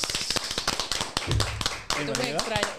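Clapping from a small group welcomes a guest onto a beach volleyball talk show, sharp irregular claps close by, with people talking and a voice rising over the claps toward the end.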